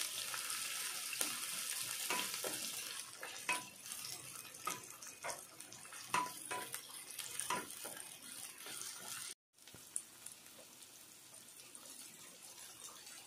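Chopped onion frying in a pan for a semolina breakfast snack, a steady close crackling sizzle with scattered pops and stirring clatters, briefly cutting out near the end before resuming.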